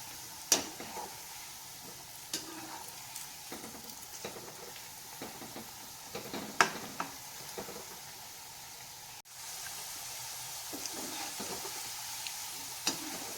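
Elephant foot yam frying in oil for a wedding-style yam fry, a steady soft sizzle with occasional scrapes and taps as the pieces are turned, continuous and close with no talking.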